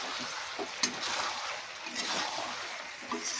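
Chicken curry cooks in oil released from its spice masala, giving a steady, moderately loud sizzle and frying hiss with soft stirring scrapes throughout.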